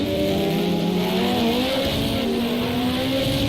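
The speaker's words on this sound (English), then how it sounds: "there was a massive snap of oversteer there from whichever Porsche's just gone past us" A Porsche race car in the Project CARS 2 racing game at the Nürburgring snaps into oversteer, its tires squealing loudly and continuously over a strained engine note.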